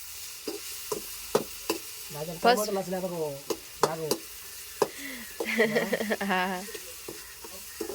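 Brinjal and tomato curry frying and being stirred in a pan, with soft sizzling and scraping stirs while someone talks intermittently over it.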